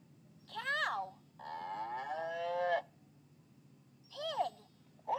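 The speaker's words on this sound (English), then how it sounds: "Cow." Cow mooing from a children's animal puzzle game: a short moo, then a long drawn-out moo, then another short moo, loud and close with no talking.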